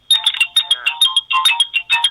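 Telephone ringtone sounding loud and close in a repeated chirping electronic melody, short bursts with brief gaps, from a phone being switched on during a Buddhist monk's radio Dharma broadcast.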